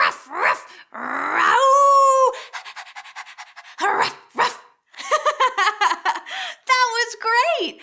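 Young children at a kids' church program barking, panting and growling like dogs, loud and close with several voices overlapping in bursts and yips, their voices imitating the dogs.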